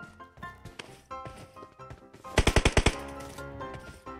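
Automatic gunfire in the PUBG Mobile battle royale game, a rapid burst of about six loud shots in the middle, with quieter game ambience and faint clatter around it.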